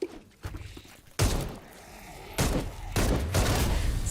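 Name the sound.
gunfire from the video game Dead Island 2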